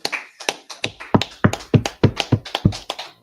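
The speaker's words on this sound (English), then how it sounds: "Let's clap it up." Sharp, irregular claps or taps sound close by, about a dozen distinct hits over three seconds, more like a few hands than a full audience.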